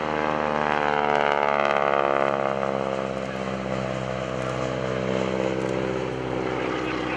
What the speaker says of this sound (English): the 450 horsepower Super Stearman.